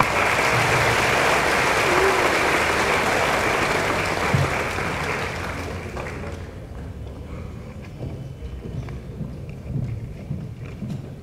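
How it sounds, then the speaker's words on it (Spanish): Strong applause from an audience at an engineers' induction ceremony rings out loudly for several seconds, then tapers to a softer, thinning patter with faint room noise underneath. "Un fuerte aplauso, la recibimos."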